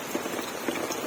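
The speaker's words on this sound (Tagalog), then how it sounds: "Mayroong kunting-kunting panaka-naka ng ulan" Light, scattered rain pattering steadily on surfaces outdoors during a typhoon, a soft continuous hiss with faint irregular drops and no voices.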